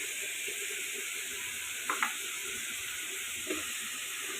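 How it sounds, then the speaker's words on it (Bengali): Red spinach fries in a pan with a steady, moderate sizzle and hiss, broken by a couple of brief utensil clicks partway through. "তো এটা আরেকটু ভাজতে থাকি স্মেল আসা পর্যন্ত"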